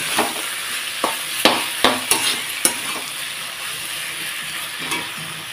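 Fish head curry with ginger and cumin paste stirred in a pan, a run of close spatula scrapes and knocks over a continuous frying sizzle, busy at first and then settling into steady sizzling, no speech.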